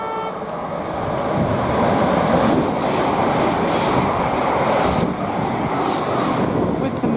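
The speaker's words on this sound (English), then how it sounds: "The next train to pass by is a Thameslink 700 heading from Brighton to Cambridge." A Thameslink Class 700 electric train passes close by at Potters Bar on the East Coast Main Line, a sustained broad rushing roar mixed with heavy wind buffeting on the microphone.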